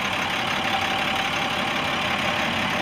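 A 2002 International 4300 truck with a DT466 diesel engine idles in a steady, unbroken drone. The rumble is loud and close and holds level for the whole stretch, with no voices over it.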